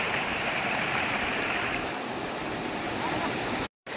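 Hill stream in Darjeeling after rain, running fast and dark, a steady broad rushing of water close by, continuous with only a brief dropout.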